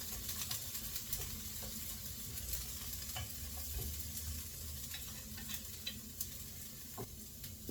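Broccoli sizzles and crackles steadily in a hot pan alongside ground turkey, with occasional stirring scrapes and clicks over a continuous frying hiss.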